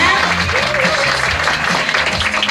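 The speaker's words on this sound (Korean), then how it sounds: "이지희 리더님께 다시 한번 뜨거운 박수 부탁드립니다" An audience at a company meeting applauds a guest speaker, a steady wash of clapping that fills the whole short stretch at close, even loudness.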